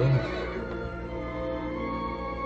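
A horse whinnies in a long, quavering neigh that fades and trails off, heard over a steady background hum.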